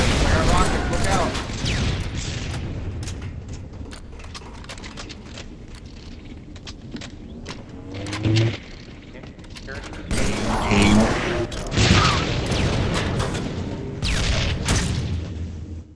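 Heavy booms and rocket explosions erupt repeatedly in Halo 3 multiplayer, mixed with gunfire and game noise, while voices talk over the loud, busy action.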